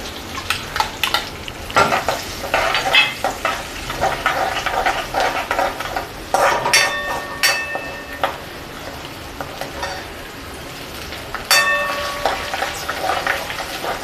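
Chopped garlic dropped into hot oil, frying with a crackling sizzle under irregular stirring and clinking of a spoon against the pan, close by, with bursts of louder spattering and scraping.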